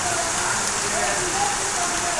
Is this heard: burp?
no